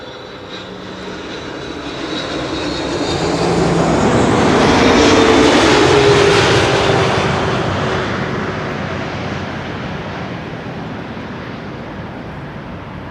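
A KLM Boeing 777-300 lands at Schiphol, its engine roar swelling from a steady rumble to a loud peak midway and then gradually easing off, with no voices.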